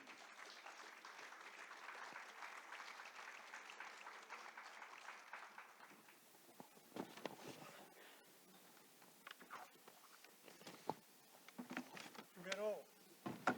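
A crowd at a literary workshop event applauds steadily for several seconds, then the clapping thins out as a single voice begins speaking.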